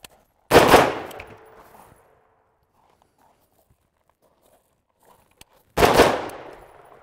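Two sharp, loud rifle shots on a shooting range while a doorway is cleared, spaced about five seconds apart, each with a short echoing tail and near silence between them.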